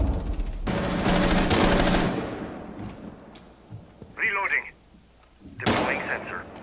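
Rapid bursts of automatic gunfire just outside a window in the video game Rainbow Six Siege, loud close volleys with pauses between them, while players talk between the bursts.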